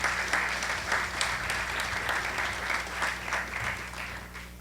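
Audience applause at a public forum in Tabasco, with sustained, even clapping from a sizeable crowd continuing for several seconds.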